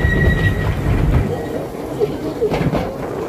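A steam locomotive runs at Lakeside Station, giving a deep rumbling chug that is loud for the first second and then eases into a quieter rolling clatter with a few sharper knocks.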